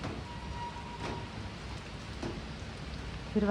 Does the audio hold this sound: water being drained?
no